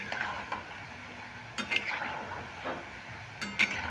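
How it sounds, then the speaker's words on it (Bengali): Nikuti sweets stirred while frying over a medium flame: a quiet, steady sizzle of oil with occasional light scraping and clinks of a utensil against the pan, faint and close. "এইভাবে নেড়ে নেড়ে ভেজে নিতে হবে"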